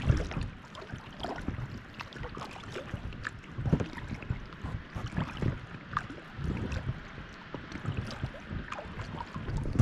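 A small boat moves across an open mountain lake with steady wind and splashing, low rumbling and choppy noise continuing throughout with no voices.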